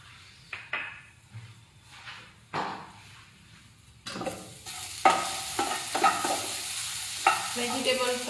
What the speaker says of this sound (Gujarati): વેજીટેબલ ફ્રાય થઈ ગયા છે. બહુ ફ્રાય થશે તો પછી બળી જશે.